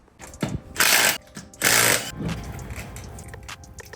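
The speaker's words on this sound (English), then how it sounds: "if your tire does this, that right there is your wheel bearing" A worn wheel bearing on a Polaris RZR Turbo S wheel gives two loud, harsh grinding bursts close by, each about half a second long, followed by a lower rumbling tail.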